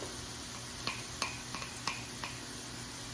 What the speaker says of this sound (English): I'm just gonna kind of spoon it over and then mix it in